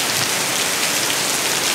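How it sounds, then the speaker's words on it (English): Steady, heavy rain patters on surfaces nearby at Disney's Boardwalk Resort, a dense continuous hiss with no other sounds. "But it is raining a good bit."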